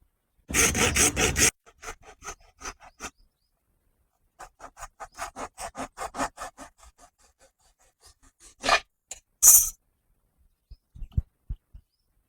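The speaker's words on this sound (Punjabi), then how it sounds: "ਜਿਹੜਾ ਚੌਪਰ ਦੇ ਵਿੱਚ ਇੱਕ ਪੁਰਜਾ ਕੱਢਿਆ ਸੀਗਾ ਉਹਨੂੰ ਇਸ ਤਰ੍ਹਾਂ ਕੱਟ ਕੇ ਮੋਟਰ ਦੇ ਉੱਪਰ ਫਿੱਟ ਕਰਾਂਗੇ" Someone cuts a plastic part salvaged from a hand-crank spice chopper so it fits onto an electric motor shaft, giving a loud opening burst of rasping followed by a run of short, rhythmic sawing or filing strokes and a few sharp knocks.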